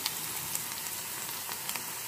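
Chopped onion sautés in hot oil in a pan for a Tamil mor kuzhambu curd curry, giving a soft, steady sizzle with scattered faint crackles and pops, heard alone at low volume.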